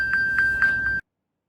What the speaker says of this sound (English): As you can see, the device is ringing, prompting the user to see the message.